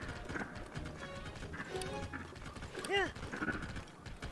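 A skeleton horse gallops in Zelda: Tears of the Kingdom with a quick clip-clop of hooves and a brief whinny midway, fairly faint under game sounds while a person talks throughout.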